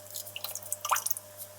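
Water drips and spills from a cichlid aquarium, a few quick, close, light plinks and splashes clustered in a brief moment with no talk.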